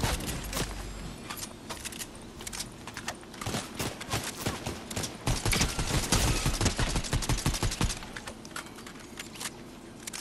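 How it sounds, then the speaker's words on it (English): Gunfire in a Fortnite match comes as dense rapid cracks and clattering bursts, building to thick volleys midway before easing, sharp and fairly near with no clear talk. "Guy shooting at you, Paul."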